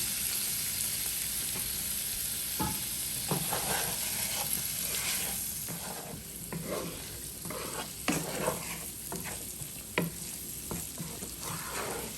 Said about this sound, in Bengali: এই যে এখন আমি ফ্রাই প্যানে দিয়ে দিলাম অনিয়ন, তারপরে দিয়ে দিব ক্যাপসিকামটা। এখন আমি ফ্রাই করে নিব।